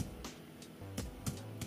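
A keyboard linked through a USB hub converter is tapped in a few scattered, soft keystrokes, close and quiet, with small gaps between presses and no talking.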